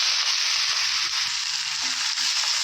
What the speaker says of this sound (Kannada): ಇದು ಚೆನ್ನಾಗಿ ಫ್ರೈ ಆಗಲಿ ಫುಲ್ಲು ಸಾಫ್ಟ್ ಆಗಲಿ